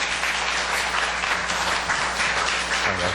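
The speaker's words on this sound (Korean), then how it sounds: "박수로 한번 맞이하겠습니다." A church congregation at an evening revival meeting claps together to welcome a guest elder, a dense, steady applause that fills the whole moment, with a brief voice near the end.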